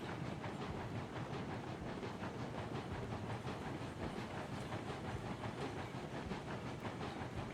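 Train rolling through a level in the railway game Railroads Online, a steady dense rumble with rhythmic clacking and some hiss, continuous and close throughout.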